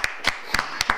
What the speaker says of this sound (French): Madame, on vous applaudit